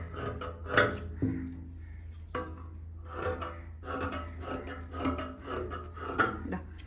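Scissors cut through fabric for a kurti sleeve in a series of close, quiet rasping snips, arriving in irregular bursts with short pauses between.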